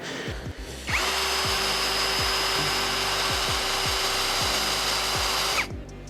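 A WORCRAFT CHD-S20LiBAB brushless cordless drill-driver bores into wood, its motor rising into a loud, steady high whine held for several seconds with rhythmic grinding underneath, then spinning down; no talking.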